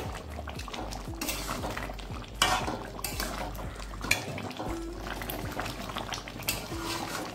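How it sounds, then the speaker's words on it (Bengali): Mutton cooks with garam masala in a karai, bubbling under repeated metallic spoon scrapes and clinks against the pan, close and busy, with no voices. "গরম মশলাটাও মিশিয়ে দিচ্ছি মাংসের সঙ্গে"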